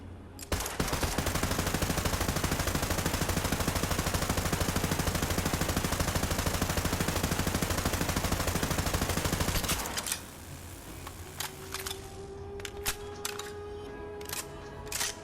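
Rapid, relentless automatic fire from the Unending Magnificent, a legendary gun in Borderlands 3, roaring loud and continuous for about ten seconds before cutting off into quieter game ambience with a few scattered clicks.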